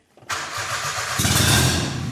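A race car engine fitted with an aftermarket Haltech ECU cranks loudly and keeps trying to catch, the starter churn building into rougher, louder sputtering bursts that never settle into a steady idle.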